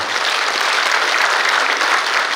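Audience applause at the 79th Liberation Day commemoration ceremony in Korea, honoring descendants of independence activists; a full, even burst of clapping from a large seated crowd, loud and sustained across the whole moment without speech.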